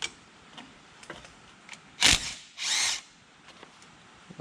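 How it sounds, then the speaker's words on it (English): An impact wrench removes brake bolts in two short, loud, close bursts of whirring hammering. Faint clicks and ticks come from handling in between. "I have my impact right here. And what I'm going to do is I'm going to take those two bolts out"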